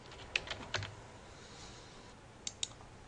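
A few sharp computer mouse clicks while a rule is edited in QGIS: two or three close clicks near the start, then two more a moment later, quiet and close with faint room noise between them.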